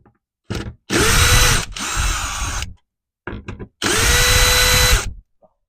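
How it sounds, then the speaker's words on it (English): A power tool backs out bolts during a battery and inverter install in a Ram ProMaster van, running in two long whirring bursts with short stops and a brief blip between them, loud and close, with no talk. "the first thing I'm going to do is I'm going to take off these bolts right here"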